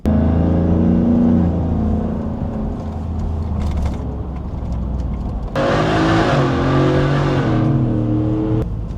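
Whipple-supercharged Ford F-150 pickup accelerating hard in a race, loud close engine roar with rising pitch, a gear change, then another surge with supercharger whine.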